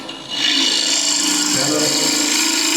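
Woodturning tool cutting a tenon on a spinning blank on a lathe, a steady close rasping scrape that starts just after the opening moment and holds continuously.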